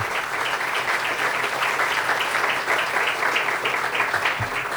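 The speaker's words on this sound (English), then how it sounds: "So please give yourselves a round of applause for the investment that you've made." Sustained audience applause fills a crowd gathered for the grand opening of a university athletics performance center, steady and dense from start to finish with no talk over it.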